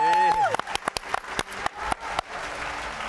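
A voice trails off, then a talk-show studio audience breaks into applause for an actress: a few scattered claps at first, then swelling into steady, dense clapping.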